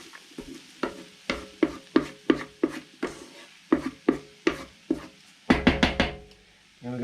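A spatula scrapes nasi goreng across a pan, pushing the fried rice to one side in a rapid series of sharp, close scraping and sizzling strokes, steady in rhythm, ending in a quick burst of several strokes.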